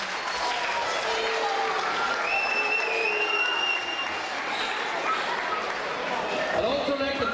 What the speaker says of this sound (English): give a big round of applause for all the parents